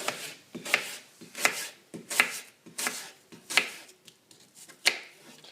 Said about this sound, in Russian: Берем яблоко, вместе с кожурой нарезаем его на тонкие ломтики.